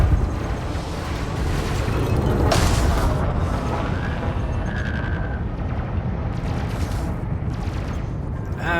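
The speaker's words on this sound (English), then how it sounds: "And cannons away." Deep rumbling booms and bursts of heavy spaceship cannon fire in Elite: Dangerous, from an Anaconda ship, with synthetic whooshes and tones over a constant low engine drone.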